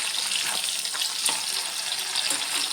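Anchovies (natholi) fry in a pan with a constant bright, hissing sizzle, close and moderately loud, with small crackles and spatters scattered through it and no voices.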